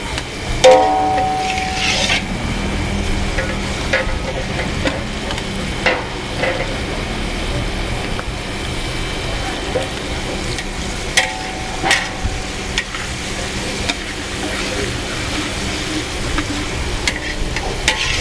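Chicken stir-fried in a pan with fried chilies, onion and roasted chili paste over medium heat, a continuous close sizzle with repeated scraping and clacking strokes of the spatula against the pan.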